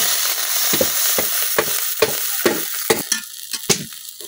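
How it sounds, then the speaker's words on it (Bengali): Water meets flat beans frying in a wok, setting off a loud hissing sizzle. Sharp stirring scrapes punctuate it at a steady, roughly half-second rhythm, with no talking. "সিমের মধ্যে পরিমাণ মতো পানি দিয়ে দেন।"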